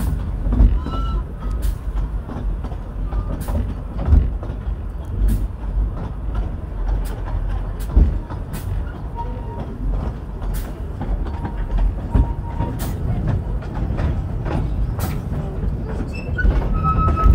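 A Llanberis Lake Railway train rumbles steadily along the track, with wheel clatter and occasional sharp clicks and squeals running through the whole stretch at constant loudness, and no talk.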